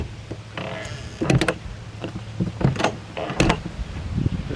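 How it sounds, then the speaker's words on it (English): A camper door with a one-key locking system swings shut, giving a few close, sharp latch clunks and rattles spaced over several seconds, with faint mechanical handling sounds between. "Now let's try and shut the door and see if it works."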